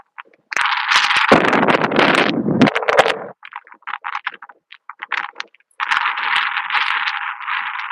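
Gusty wind buffets the microphone in loud bursts on a fishing dock by dark water, with rattling and scraping noises between the gusts.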